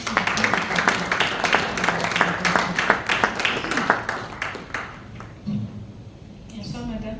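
Audience at an agricultural business conference in Kinshasa applauds in a brief burst of clapping that fades out, with a voice speaking over and after it.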